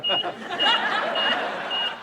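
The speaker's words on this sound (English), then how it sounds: "Somebody must pull the fire alarm." An intermittent high-pitched fire alarm tone sounds through, while people chuckle and chatter nearby.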